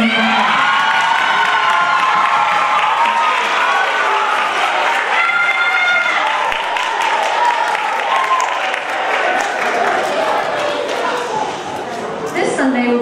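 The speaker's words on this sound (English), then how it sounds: "give them a round of applause" A crowd at a school Lunar New Year assembly applauds and cheers loudly, with shouts and whoops from children mixed in, the clapping sustained throughout.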